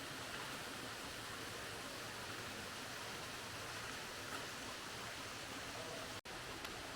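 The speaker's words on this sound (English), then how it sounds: "There's this little waterfall there." A small waterfall in Karijini National Park gives a steady, broadband rush of falling water, continuous and fairly close, with a single brief dropout near the end.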